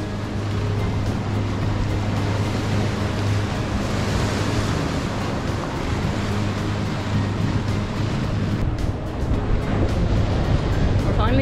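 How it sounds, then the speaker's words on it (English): Wind and breaking waves around a cruising boat in the Exuma island chain, a loud continuous rush with low engine-like drone and buffeting, steady throughout with no clear voices. "We're finally getting a little bit of wind."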